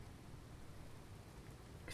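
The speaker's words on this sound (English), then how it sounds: "Oh, brilliant, it's raining." Steady, faint rainfall in Skyrim, a soft even hiss of drops with no break, close and continuous for a couple of seconds, with a slight rustle near the end.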